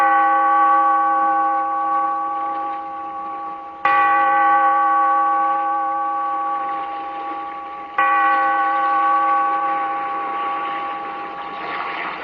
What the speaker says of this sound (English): Bellkeeper, toll the bell, so that all may know we are gathered again